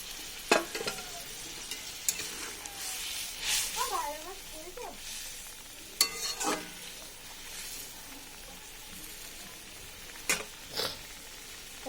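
Pre-fried amodi fish goes into a pan with salt and turmeric and is stirred, giving soft sizzling and scraping under a voice, with a few sharp spoon knocks on the pan.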